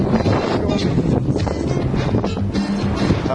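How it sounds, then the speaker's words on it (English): Strong wind buffets the microphone outdoors, a continuous rumbling roar with gusty surges throughout. "it's windy out here"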